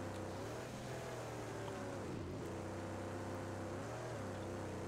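Car engine in the Mad Max video game droning steadily at close range, with pitch dipping and rising again as it revs, alone without voices.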